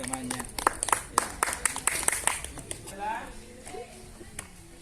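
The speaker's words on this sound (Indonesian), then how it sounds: "tepuk tangan dulu dong" Scattered claps from a classroom group holding a lesson outdoors, applauding a classmate: a loose, uneven patter of hand claps over the first few seconds that thins out and stops, followed by quieter background voices.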